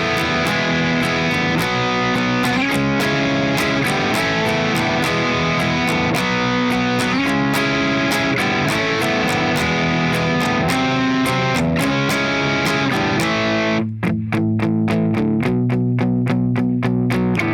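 Distorted electric guitar hammers out power chords in a song's chorus, loud and driving with a rhythmic strum pattern and a brief break near the end before it picks up again.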